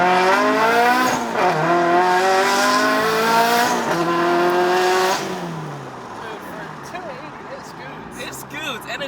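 A modified 2018 Subaru BRZ pulls hard on a test drive, its engine note climbing steadily through the gears and then easing off, loud and close from inside the car, with people talking over it near the end.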